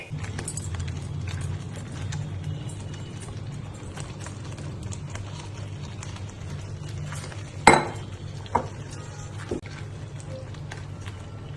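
Fried paneer cubes are tipped into a pan of cooked spinach and stirred, with faint scraping and a few soft clinks of a spoon against the pan over a low steady background hum.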